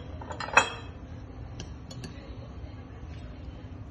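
Cold salad of green onion and chicken being stirred with mayonnaise in a bowl, with a single sharp clink of a utensil against the bowl early on, then soft, steady mixing noise throughout.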